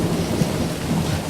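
Heavy thunderstorm rain hisses in a dense, constant wash, with low rumbling thunder underneath and no voices.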